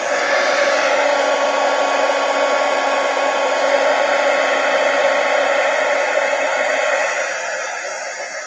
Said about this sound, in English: can you guys hear me over my heat gun?